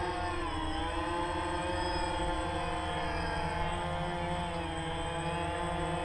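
A DJI Phantom drone flies just after takeoff, its rotors giving a steady, close, loud droning whine with layered tones that stays even throughout, with no talking.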